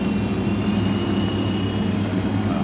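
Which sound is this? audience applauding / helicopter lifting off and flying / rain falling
helicopter lifting off and flying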